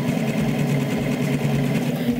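A Brother Jazz II sewing machine runs a satin stitch with its standard foot fitted, producing a continuous, fairly loud mechanical hum with a fast, even needle rhythm and no speech.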